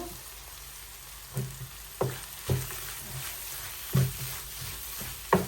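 Garlic sizzles steadily in a pan for pork curry, with a soft continuous frying hiss broken by several distinct crackles and spatters spaced a second or so apart.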